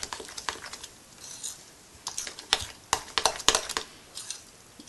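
Rava idli batter with fruit salt being mixed in a bowl: irregular clinking and scraping taps of a spoon against the vessel, close and moderately loud, in uneven bursts with no talking.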